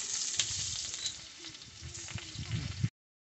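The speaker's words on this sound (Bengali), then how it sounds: "আমার তেলটা গরম হয়ে গেছে, আমি এখন ফোড়নে দিব এক এক করে। যে পেঁয়াজ দিচ্ছি, কাঁচা লঙ্কা দিব আর তেজপাত।" Onion, green chilli and bay leaf dropped into hot oil for tempering a fish and potato curry, sizzling and crackling steadily at close range with a few sharper pops before it cuts off.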